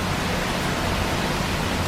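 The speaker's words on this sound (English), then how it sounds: "the rain's too loud." Loud, steady rain pours down in a dense, unbroken hiss that fills the whole stretch without pause.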